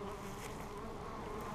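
Honeybees buzz steadily and close by during a hive inspection at a bee farm, a dense, unbroken drone with no voices over it.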